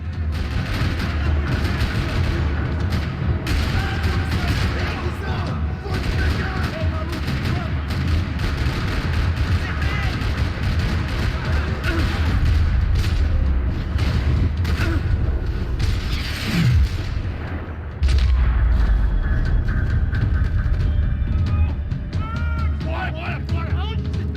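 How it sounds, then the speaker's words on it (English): Gunfire rattles through a parking lot in the video game Max Payne 3, dense bursts of shots and booms layered over continuous action noise, loud and busy throughout with a heavy low impact near the end. "Another parking lot rattling with gunfire."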